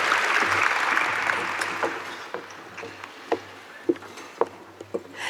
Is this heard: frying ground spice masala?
no